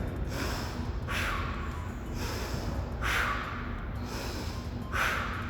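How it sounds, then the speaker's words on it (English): Heavy, exaggerated breaths drawn in and pushed out in a slow, regular rhythm, about four cycles, close and forceful. "some labored breathing or some exaggerated breaths"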